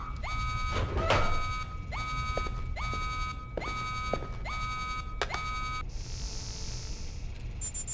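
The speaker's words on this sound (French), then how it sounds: "Alarme de niveau 1." A repeating electronic alarm tone from Splinter Cell Double Agent on PS2 pulses in regular bursts, each with a sharp rising onset, followed by a higher steady beep near the end.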